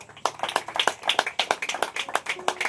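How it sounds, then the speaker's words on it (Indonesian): A church congregation claps with quick, uneven hand claps, close and fairly distinct, overlapping in a lively irregular patter that continues throughout. "Tepuk tangan bagi Selan"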